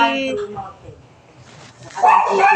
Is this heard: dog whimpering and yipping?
yes